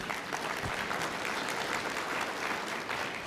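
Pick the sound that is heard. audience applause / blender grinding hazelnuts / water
audience applause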